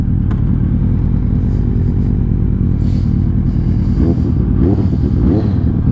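A naked motorcycle ridden through Islamabad at night roars close and loud, its engine holding a steady low drone with rough, rattly texture and a few rising throttle surges near the end.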